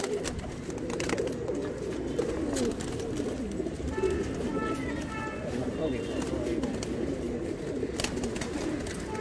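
Pigeons coo softly and repeatedly in a pigeon shop in Delhi against a steady low rumble of background noise, with occasional bird calls mixed in throughout.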